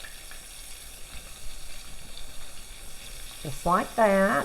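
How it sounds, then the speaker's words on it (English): Steady crackling sizzle of cubed steak strips frying in hot oil, with a brief spoken phrase near the end. "If our oil is hot enough, and it is, because it's beginning to sizzle."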